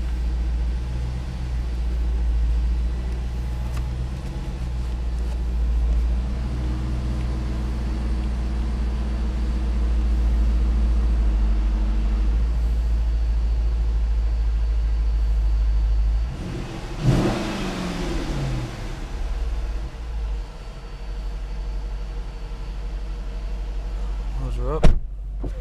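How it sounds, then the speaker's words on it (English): A 2008 Dodge Challenger SRT8 First Edition with a Mopar Hemi V8 idles with a deep, steady rumble, rising briefly in a rev partway through, close and loud with talk over it. "Nice Mopar Hemi sound."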